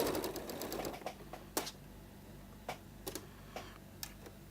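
A sewing machine stitches a mitred quilt binding in a short close run, then gives a series of sparse, sharp mechanical clicks and ticks against a quiet background.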